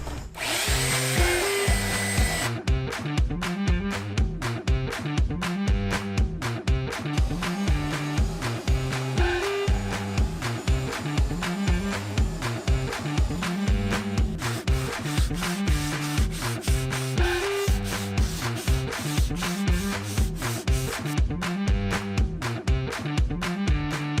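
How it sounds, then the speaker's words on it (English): A belt sander with 36-grit paper grinds steadily against a wooden 4x4 deck post, a loud continuous buzzing rasp with rhythmic strokes that carries on without pause. "When working on flat surfaces like this 4x4 post, a belt sander works great."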